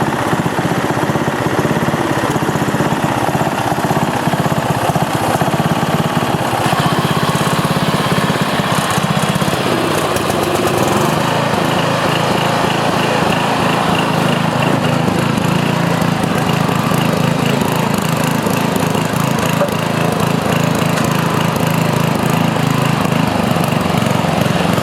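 An old Sears Companion garden tractor engine idles at the very bottom of its throttle, a steady, loud, close drone that continues unbroken throughout.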